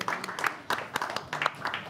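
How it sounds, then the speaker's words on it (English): Audience applause at a student union election question time, a steady patter of clapping hands filling the room, moderately loud and close, with a voice briefly audible under it. "a round of applause for them once again"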